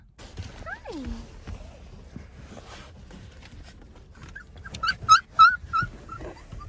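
Inside a car, a mother dog and her puppies whimper with high yelps and whines. A rising whine comes early, then a cluster of sharp squeaky cries near the end over low vehicle rumble.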